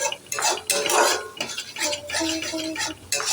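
Spices being stir-fried with a pinch of sugar in a pan, heard as a run of close metallic spoon scrapes and clinks against the pan in an uneven rhythm, with only a faint sizzle beneath.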